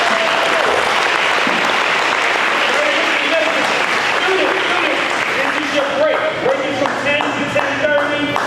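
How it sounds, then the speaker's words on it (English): An indoor audience breaks into dense, sustained applause, loud and close, with a few voices calling out as the clapping thins toward the end. "let's give Mr. Jeff a round of applause"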